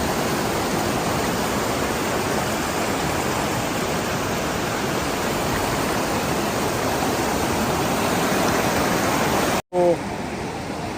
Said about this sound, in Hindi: दरियाए नीलम का पानी है, ये जम्मू कश्मीर से आता है दरिया।